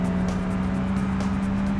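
A Chevrolet Cobalt-style compact car driving hard at speed, with a loud, steady engine drone and road roar that holds continuously with no talk.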